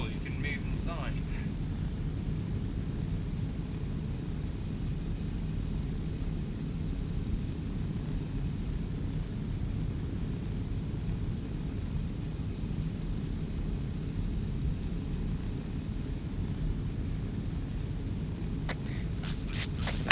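A steady, loud airplane engine drone inside an aircraft in a video game, continuous and unbroken, with voices talking over it.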